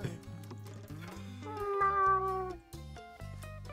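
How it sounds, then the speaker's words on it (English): A pet cat meows repeatedly in drawn-out, wavering cries, close and fairly loud, with a rising, strained call in the middle and no talk over it. "I know what your cat sounds like"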